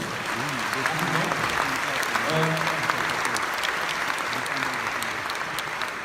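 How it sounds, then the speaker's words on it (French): Sustained audience applause at a magic gala, dense clapping from a crowd filling the room at steady volume, with a few voices mixed in. "qu'on applaudisse très très fort les bénévoles"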